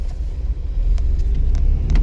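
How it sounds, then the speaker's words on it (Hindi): A car engine close by, revving under a low, steady rumble as the clutch is let out, with faint clicks and knocks over a continuous throaty drone. "अब क्लच उठाना शुरू कर दो, रेस देना शुरू कर दो, रेस दो"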